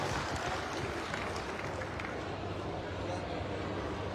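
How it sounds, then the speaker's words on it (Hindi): Audience applause at a Bharatiya Janata Party political gathering, a dense and steady wash of clapping from a large crowd that holds evenly for about four seconds. "एक बार जोरदार तालियां बजाकर आप उनका भी आभार व्यक्त"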